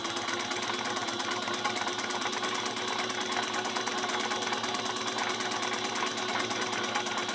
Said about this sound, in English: I'm just going to pivot and hop over a few stitches and do 1/8 of an inch on the other side